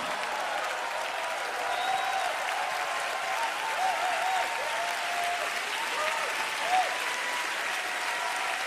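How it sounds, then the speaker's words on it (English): Steady audience applause fills the room throughout, a dense wash of clapping at moderate volume with faint scattered voices beneath. "I thought you'd be standing up and clapping."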